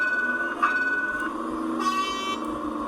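A bus horn in a Roblox bus simulator game honks in two short blasts over steady engine and road noise.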